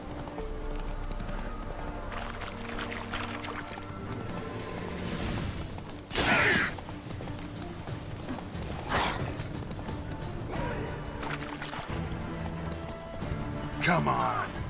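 Rhythmic hoof clip-clop of a horse galloping in The Witcher 3 video game, with occasional whinnies and bursts of combat clatter, running under a player's continuous commentary.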